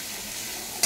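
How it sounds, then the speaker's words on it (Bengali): Onion fries in hot oil with a steady close sizzle, ending in a brief louder scrape or clatter. "একটু ভেজে নেবো পেঁয়াজটা"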